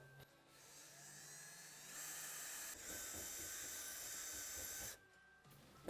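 A power drill bores a hole into a Tusk roof-top cargo rack on a Polaris RZR XP 1000 UTV. Close up, its high whine holds steady for a few seconds, with a softer hum before and after.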